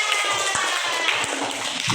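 Steady applause from a classroom of pupils, a dense, even wash of many hands clapping that holds at the same level for a couple of seconds.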